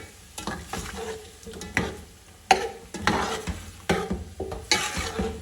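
Chicken pulao cooking on a medium flame, with bursts of sizzling and scraping as a spoon stirs the pot in uneven strokes, close and moderately loud, nobody speaking.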